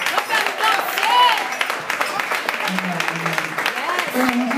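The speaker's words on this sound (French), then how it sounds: "On applaudit." A church congregation applauding at a pastor appreciation ceremony, steady clapping with scattered cheers and voices mixed in, plus a few brief tonal sounds rising over the crowd.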